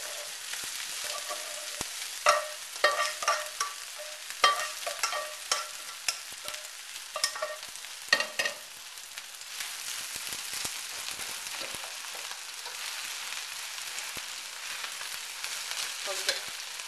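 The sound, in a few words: rice stir-frying in a wok with garlic and spring onions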